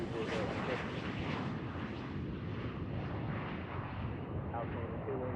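A fixed-wing airplane taking off from runway 32 left at Boeing Field: a steady, loud, broad engine roar that holds throughout without clear breaks.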